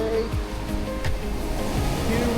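Strong ocean waves surge and crash on a beach at Dinadiawan, Dipaculao in Aurora, a steady loud roar of surf filling the clip with no one talking over it.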